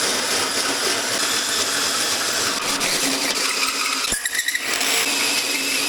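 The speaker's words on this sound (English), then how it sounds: "I ain't never had a hole saw that grabby in my life" A hole saw grinds steadily through steel, a harsh continuous whirring with a brief catch and stutter near the end before resuming.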